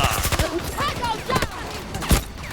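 Bursts of gunfire and explosions from the shooter game Battlefield 2042, sharp repeated impacts in quick clusters under loud overlapping voices of players talking.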